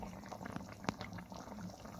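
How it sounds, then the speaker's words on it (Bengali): Chicken with yogurt simmers in a little water in a pan, giving a soft, quiet bubbling with small pops and one brief sharper sizzle. "সামান্য জল দিয়ে কষিয়ে নেব।"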